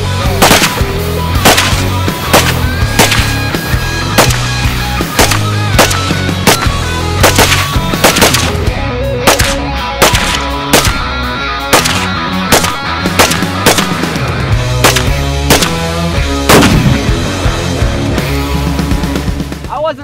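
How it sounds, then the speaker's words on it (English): AR rifle shots fired outdoors at apple targets, heard as a rapid series of loud, sharp cracks spread across the whole stretch, mixed with steady background music. "Steve, when you're shooting a rifle, you want to keep your eyes open and not flinch"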